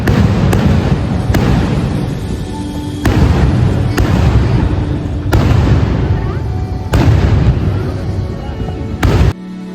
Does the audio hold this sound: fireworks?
yes